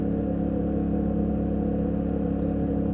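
A Yamaha Tenere 700 motorcycle engine drones steadily on the street, a dense low rumble under acceleration, close and continuous with no pauses.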